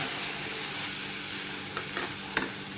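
Red pumpkin halwa is stirred in a pan over a soft, steady sizzle, with a few light spoon scrapes and one sharp clink near the end, no voices.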